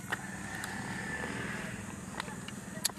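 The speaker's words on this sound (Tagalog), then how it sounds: "Yan ang motor na parang truck." A motorcycle engine with a deep, truck-like drone idles and runs steadily nearby, alongside a few sharp clanks and taps.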